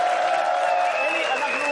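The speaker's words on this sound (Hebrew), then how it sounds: "כפיים לאלי שהגיע אלינו" Studio audience applauding a guest, a former national football team coach turned pundit, joining a late-night TV comedy show; steady, dense clapping that fills the whole moment with a slight lift near the end, voices faintly mixed in.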